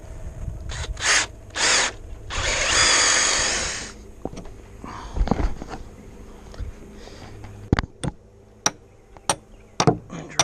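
A power drill bores through a wooden deck post for a carriage bolt. Several short whining bursts and one longer two-second run are followed by a series of sharp separate knocks.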